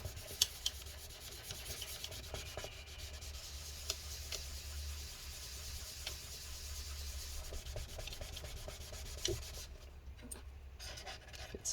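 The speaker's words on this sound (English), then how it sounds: "Let's go ahead and wipe this up." Adhesive residue being wiped off inside a 15-inch 2012 MacBook Pro A1398 during a battery replacement: quiet, close, continuous scrubbing and rubbing strokes with occasional faint clicks.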